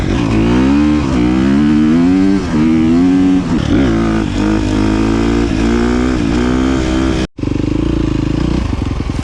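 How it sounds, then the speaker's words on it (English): A loud, close KTM 350 XC-F dirt bike engine with a tuned Vortex ECU revs up and down repeatedly, cutting out briefly before roaring back. "the way it revs"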